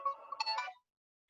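A mobile phone rings briefly in a quiet room, a short bright electronic melody that cuts off abruptly, followed by silence.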